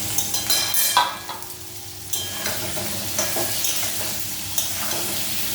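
Kohlrabi and potato frying in hot oil with cumin seeds, a loud close sizzle that runs continuously, broken by a few sharp stirring scrapes near the start and once more toward the end.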